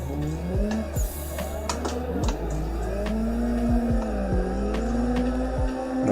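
Drifting car in the Assetto Corsa racing game with loud, continuous tire squeal as the engine revs rise and fall through wide transitions, sustained screeching across the run with no talking.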